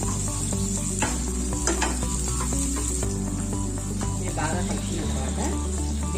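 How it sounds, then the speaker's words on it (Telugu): A large chopped onion frying with coriander and cumin seeds in a pan, a steady close sizzle broken by stirring scrapes and clatters, with a faint background hum. "ముందుగా కలిగి పెట్టుకున్న ఒక పెద్ద సైజు ఆనియన్ వేసుకుంటున్నా ఇది వేసుకుని ఒకసారి బాగా కలుపుకోవాలి"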